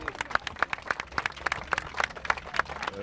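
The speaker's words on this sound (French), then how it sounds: "Bonne main d'applaudissements encore, mesdames et messieurs, pour Annie et Pierre-Luc." Audience applause at an outdoor festival performance, a dense steady patter of many hands clapping at moderate distance, sustained evenly for the whole stretch with no voices over it.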